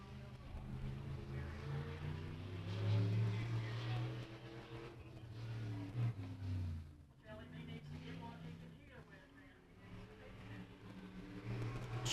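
A sport mod race car roars through a qualifying lap at Beckley Motor Speedway, its engine droning loud and near with rising and falling pitch, briefly dipping around mid-lap, while an announcer talks over it.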